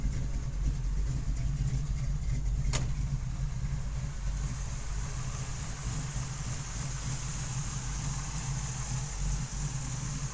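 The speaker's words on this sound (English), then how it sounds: "Nice rumble. Nice lumpy cam." A 1973 Camaro RS idles with a lumpy cam, giving a steady, close, deep rumble for the whole stretch. A single sharp click comes early on, and no one speaks.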